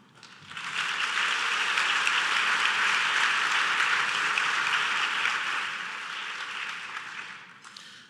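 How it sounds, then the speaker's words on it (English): Sustained audience applause fills a large forum hall, a dense even wash of many hands that swells quickly, holds for several seconds and then eases off, with no voices over it. "join me in a round of applause"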